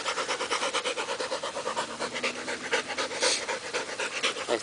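A dog pants rapidly and steadily on a farm, quick rhythmic breaths close to the microphone, continuous throughout with no talking.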